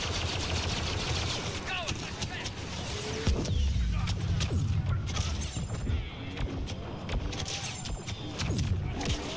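Droid blaster fire from a Star Wars Clone Wars video game, set aboard a Venator ship, rattles in quick repeated volleys amid a busy battle din, with a player talking over the shooting.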